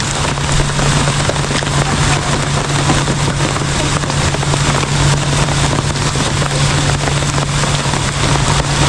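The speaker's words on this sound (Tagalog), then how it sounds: "Grabe, lakas po ng ulan." Heavy rain pours in a loud, dense, unbroken roar, with a steady low hum running beneath the wash of noise.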